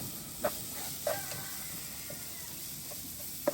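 Ginger, garlic and green chili frying for chicken curry give a faint, steady hiss, punctuated by three sharp taps of a spoon against the pan.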